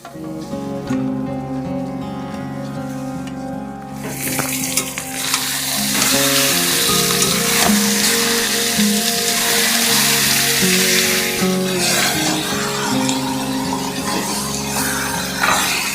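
Marinated chicken going into a hot pan for dhaniya chicken, with sizzling that swells into a loud, dense, steady frying hiss after a few seconds, while tonal background music plays throughout.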